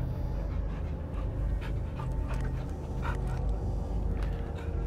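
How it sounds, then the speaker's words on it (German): Cosmo the dog in the video game Guardians of the Galaxy pants in quick, steady breaths, close and continuous over game background sound. "Böse Hund, böse Hund."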